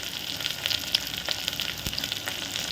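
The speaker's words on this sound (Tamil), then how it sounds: "இப்போ இந்த வெங்காயம் வந்து நல்லா வதங்கட்டும்" Onions sizzle steadily in a pan for chicken kurma, with a close, crackling hiss and small pops and a faint stir, no voices.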